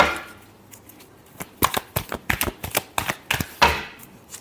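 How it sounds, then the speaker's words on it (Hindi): Tarot cards being shuffled by hand, a quick run of crisp riffling clicks and flutters that grows more rapid and irregular after a quiet start, close up and with no voice over it. "Last shuffle."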